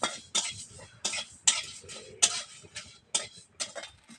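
Spices stirred dry in a hot wok, with cumin, coriander, fennel, bay leaf and dried chillies for a raw mango pickle, produce a run of light scraping and clinking strokes at an uneven rhythm, close and fairly quiet, with no talk.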